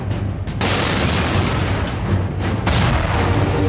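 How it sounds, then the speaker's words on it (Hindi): Artillery shells from Pakistani guns exploding on an army ammunition depot at Kargil district headquarters during the 1999 war; dense, continuous booming roar with heavy low rumble, loud and sustained with a brief dip before surging again. "पाकिस्तान की ओर से तोप के गोले करगिल के जिला मुख्यालय में बने सेना के आयुध भंडार में गिरे।"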